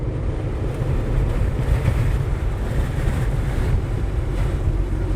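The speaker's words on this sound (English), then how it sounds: "we come straight back to the wind" Strong wind roars steadily and loudly at a home just reached after ten days away, a dense rumbling gust noise buffeting the microphone with trees thrashing nearby, no voices over it.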